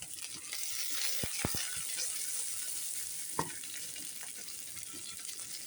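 Ginger, shallots, curry leaves and green chilies sauté in hot oil in a pan, a steady soft sizzle punctuated by a few sharp clinks of a spoon against the pan.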